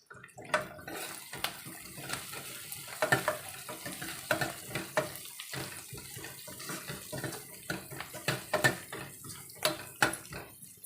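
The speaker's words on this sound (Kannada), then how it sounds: "ನಾವು ಆನಿಯನ್ ಎಲ್ಲ ಫ್ರೈ ಮಾಡ್ತಾ ಇದ್ದೀವಲ್ಲ" Sliced onions and chillies frying in a pan while being stirred, giving repeated scraping clinks and stirring bursts over a soft, wet-sounding sizzle, fairly faint and close, with no talking.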